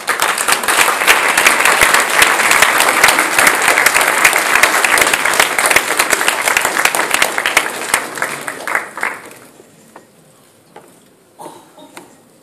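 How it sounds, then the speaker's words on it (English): Award ceremony audience bursts into loud, sustained applause, dense clapping from a large crowd that holds for several seconds, then thins out into a few scattered claps and fades. "Please give a big round of applause to Vital Smith!"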